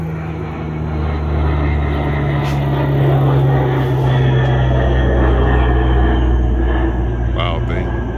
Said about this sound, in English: Hold on, this plane is flying.